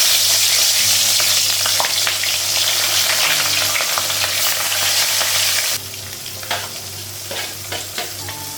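Fish frying in a pan with oil, a steady close sizzle with occasional stirring and scraping clicks, the sizzle easing slightly partway through.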